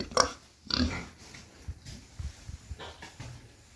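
Native pigs on a farm grunt and snort in short low bursts, a few louder squeals at the start followed by softer grunting up close.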